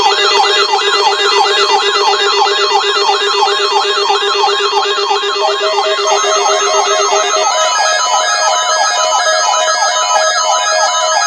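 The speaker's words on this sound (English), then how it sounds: "The National Weather Service in Chanhassen, Minnesota has just activated the warning alarm on 13 weather radio stations" National Weather Service weather radio warning alarm from Chanhassen, Minnesota, broadcast on a required weekly test: loud, continuous electronic warbling tones layered over a steady lower tone that cuts off about two-thirds of the way through, with no voices.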